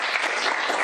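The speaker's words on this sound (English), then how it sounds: "thank the panelists, give them a round of applause" Conference audience applauding the panelists, a dense, steady wash of clapping that fills the whole moment without pause.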